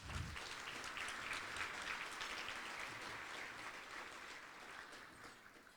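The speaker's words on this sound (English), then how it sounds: "Please give them a round of applause." An audience at the 31st annual gala of the American Arab Chamber of Commerce applauds, a steady, even wash of many hands clapping that holds for several seconds, heard from a distance and fairly soft.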